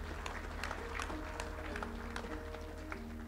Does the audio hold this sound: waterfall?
no